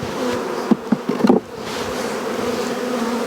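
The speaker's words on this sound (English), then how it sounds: "I'll give it an extra shake of bees" Dense, steady honeybee buzzing fills the air after a frame of bees is shaken into a nuc box, with a few sharp knocks and thumps from the shaking early on and the swarm droning on evenly afterward.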